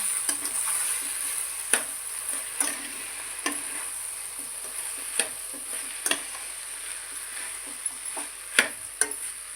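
Pea pulao with salt stir-fried in a pan, giving a soft continuous sizzle with periodic spatula scrapes and taps against the pan every second or so.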